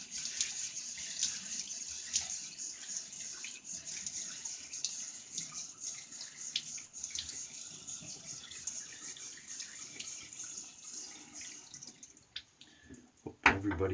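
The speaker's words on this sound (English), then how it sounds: "I'm going to get the face wet and start getting some soap lathered." Water runs from a tap into a sink while a face is wetted before shaving, a steady hiss and splash with small irregular spatters, fairly quiet and close, then a clatter near the end.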